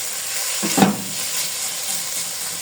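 Chopped onions with a little salt fry in a pan for keema patties, giving a steady close hiss with a brief louder stir near the start, and no voices.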